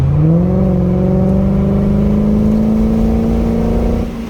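A 1989 Chevrolet C4 Corvette engine revs up loudly and close by, its pitch climbing smoothly as it accelerates, then easing off at the end.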